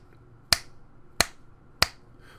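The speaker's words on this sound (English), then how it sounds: "Notice if I snap my fingers" Three crisp finger snaps ring out alone in a quiet room, evenly spaced and sharp, each one a bright, clean click close to the microphone.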